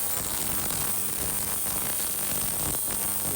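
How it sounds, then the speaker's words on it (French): Ultrasonic cleaner running steadily in a workshop, used while stripping down the carburettor of a Renault Super 5 GT Turbo: a continuous, harsh hiss with a shrill high-pitched tone on top, loud and unbroken throughout, with no voices. "Bon, déjà, ça fait un bruit affreux, comme vous avez pu l'entendre. C'est un bruit super strident."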